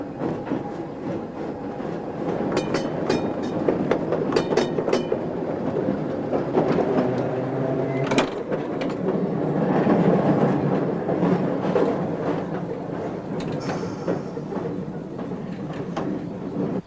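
An old train car rattles, bounces and bumps noisily along its track, with steady rumbling, clickety-clack rhythm and sharp knocks and squeals, heard from inside at a constant, moderately loud level.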